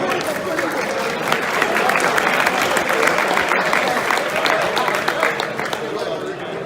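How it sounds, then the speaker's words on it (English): Sustained applause from a crowd for the judges at a competition event, loud and steady for several seconds with a brief shout mixed in. "Let's give our judges a round of applause."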